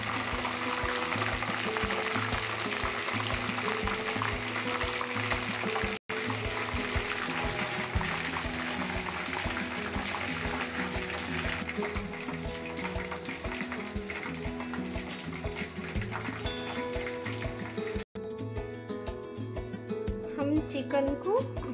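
Chicken kabab pieces frying in a pan, giving a steady low sizzle that runs through the whole stretch beneath a voice and light background music.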